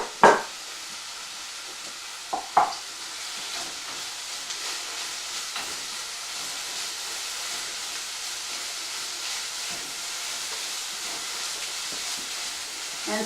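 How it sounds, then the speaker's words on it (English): Celery and kale stems sautéing in a pan give a steady, soft, close hiss throughout, with a couple of brief clinks near the start. "So now I'm going to add the celery as well as the stems from the kale, and sauteing these ingredients a moment longer."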